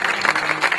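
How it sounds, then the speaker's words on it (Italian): A brief burst of crowd applause for the winner of a cooking contest at an outdoor village festival, with steady, dense clapping throughout. "Un applauso."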